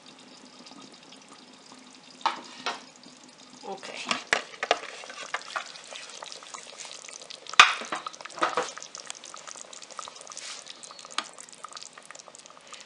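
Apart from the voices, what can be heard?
chicken legs simmering and bubbling in a pot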